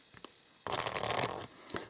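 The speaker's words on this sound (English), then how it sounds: "So let's shuffle a little bit." A tarot card deck shuffled by hand, a dense papery riffle burst lasting under a second after a few faint ticks, followed by quieter card taps, close and with no voices.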